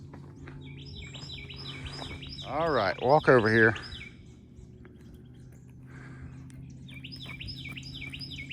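A bird calling near Albemarle Parkway, repeated short high chirps at the start and again toward the end, with someone speaking briefly and loudly in between.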